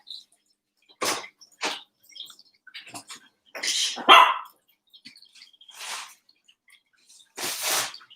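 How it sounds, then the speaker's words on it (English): Several dogs bark indoors in loud, close bursts, about seven or eight sharp woofs spread unevenly across the clip with brief quiet gaps between them. "Okay, you guys, don't bark, please."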